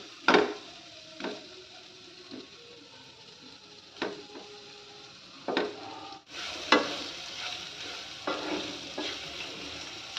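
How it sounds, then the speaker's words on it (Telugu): Paneer cubes frying in a pan for a cashew paneer curry, with a steady sizzle and scattered scraping stirs and clinks of a spatula against metal, close and moderately loud, no voices. "ఈ విధంగా ఒక 3 నిమిషాలు పన్నీర్ని బాగా ఫ్రై చేసుకున్న తర్వాత"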